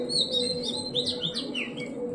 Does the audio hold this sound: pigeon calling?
yes